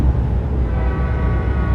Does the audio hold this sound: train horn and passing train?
yes